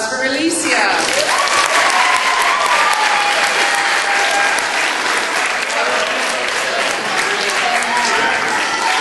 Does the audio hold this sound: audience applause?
yes